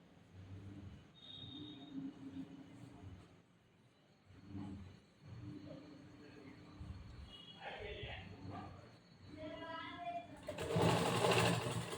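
Someone talks softly while handling blouse fabric, then a sewing machine starts a loud, close, continuous stitching run across the seam near the end.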